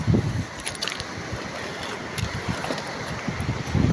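Seaside waves wash and rumble steadily against the shore with blustery wind buffeting the microphone, close and continuous, no voices.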